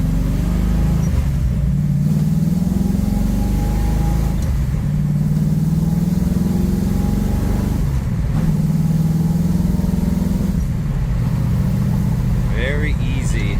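A 1967 Ford Mustang engine drones loudly from inside the car, rising in pitch as it accelerates and dropping at each gear shift, with several shifts in a row under continuous road noise.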